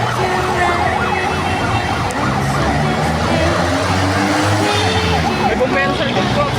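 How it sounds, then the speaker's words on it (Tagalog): A fire truck siren wails behind on the road, a steady, loud rising-and-falling tone mixed with traffic noise and engine rumble throughout, with a voice singing over it. "May bumbero sa likod ko."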